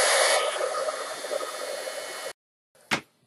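A heat tool blows hot air to melt embossing powder on a craft tag, a steady close broadband whoosh for about two seconds that cuts off abruptly, followed by a brief faint click.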